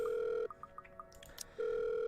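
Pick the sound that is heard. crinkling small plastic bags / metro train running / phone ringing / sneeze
phone ringing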